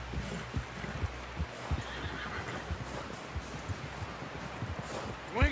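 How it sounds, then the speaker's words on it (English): Horse whinnies in the Red Dead Redemption 2 video game, a couple of neighs over steady hoof clip-clops and rustling. "Someone help John down off this horse."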